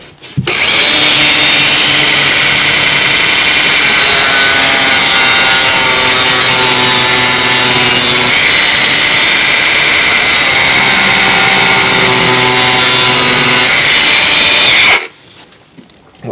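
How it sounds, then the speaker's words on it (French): An angle grinder cuts a slot into an old seized Torx screw on a van fit-out, a loud continuous high-pitched grinding whine lasting about fourteen seconds before it abruptly stops. "on va essayer de faire un trait de meuleuse"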